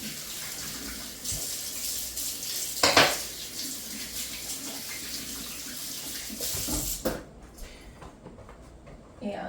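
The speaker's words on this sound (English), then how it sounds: "Always wash your hands." A kitchen tap runs while hands are washed underneath it, with steady splashing and a louder gush near three seconds. The water stops about seven seconds in, leaving a quiet room.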